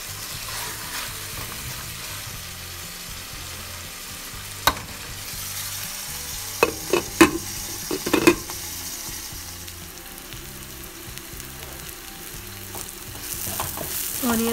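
Onions frying in oil until deep brown for a Hyderabadi chicken dum biryani, a steady close sizzle with a few sharp stirring clinks and scrapes midway, no voices.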